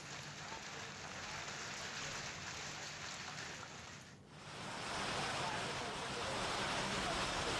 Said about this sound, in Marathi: सोलापूरच्या अक्कलकोट तालुक्यात अवकाळी पावसासह गारपीट झाली